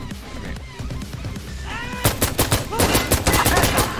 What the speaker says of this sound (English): I just literally shot around that guy